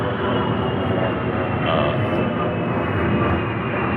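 Loud, continuous roar of a jet aircraft passing overhead, a broad steady rumble with no break across the whole stretch.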